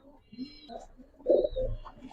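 Pigeons cooing softly at a dealer's loft in Bangladesh, a few low rolling coos rising and falling over about two seconds, fairly close, with faint background chatter.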